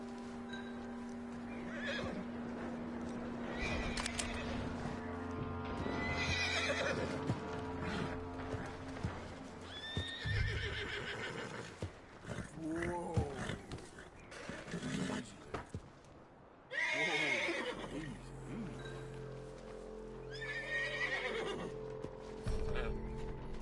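A horse in the open-world western game Red Dead Redemption 2 whinnies several times with clip-clopping hooves, close and loud, with stretches of ambient game sound between calls.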